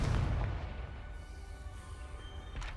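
A Confringo fire spell from Hogwarts Legacy bursts with a loud, booming blast at the start, its rumble fading into a low, reverberant tail before a brief crackle near the end.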